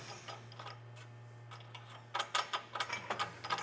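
A ratchet clicks rapidly in short bursts as nuts and washers are snugged onto carriage bolts of an ARB Base Rack on a Tacoma, close and crisp against a low steady hum.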